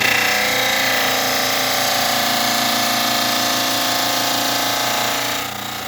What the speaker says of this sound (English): we're going to trim the back side just shy of the hamular notches